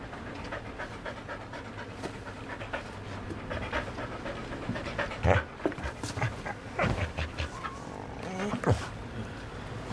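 A dog pants rapidly and close by, with soft whimpers and a few louder bursts of movement, and no talking over it.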